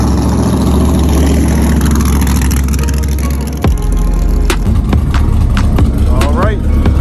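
A car engine runs steadily while driving to a street racing event, a loud droning cabin rumble from start to end, dipping briefly midway before shifting back up, with a few clicks and rattles near the end.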